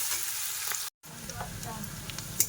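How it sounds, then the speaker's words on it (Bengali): Onions frying in oil in a village kitchen, a steady close sizzle with faint crackles, broken by a brief full silence near the start before the frying resumes. "পেঁয়াজটা ভালো করে লাল করে ভেজে নেবো"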